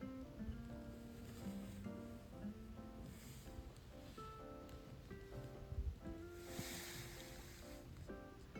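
A mountain creek in Gothic Basin rushes steadily throughout, a continuous close wash of flowing water with no voices.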